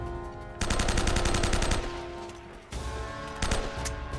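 Sniper fire in the action game Uncharted: loud sharp gunshot bursts and rapid rattling volleys, with a sustained tonal hum underneath and another short burst near the end, no talking.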